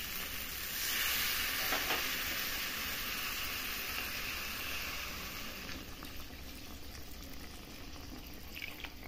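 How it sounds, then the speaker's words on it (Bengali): Fish and potato curry bubbling in a pot, a steady simmering hiss with faint stirring clinks, moderately loud and continuous throughout, with no talking. "বন্ধুরা দেখুন ঝোলটা কেমন ফুটছে"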